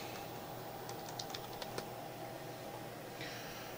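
A few quick, soft keyboard taps come in a short burst over a steady electrical hum, then the room goes quiet again.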